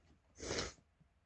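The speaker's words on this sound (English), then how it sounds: "This bullshit's actually making me sneeze." A person sneezes once, a short sharp burst of breath and noise that rises and falls within about half a second, close to the mic in a quiet room.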